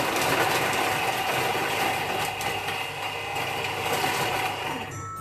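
A kitchen mixer blends muffin batter at speed 5 for five seconds, giving a steady, loud whirring drone that holds level throughout and cuts off at the very end.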